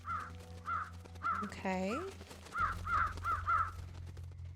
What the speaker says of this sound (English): I can call crows.